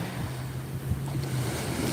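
Ocean waves washing onto a sandy beach, a steady windy rush of surf with a low hum underneath, fairly loud and continuous without speech.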